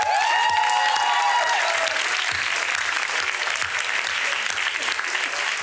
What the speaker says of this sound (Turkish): Alkışlarınızla Cabbar geliyor